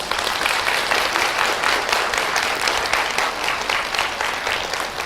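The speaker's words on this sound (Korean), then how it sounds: "다시 한번 큰 박수 부탁드리겠습니다" Steady, full applause from a lecture audience fills the hall without a break after a talk on overcoming adversity, with no voices heard over it.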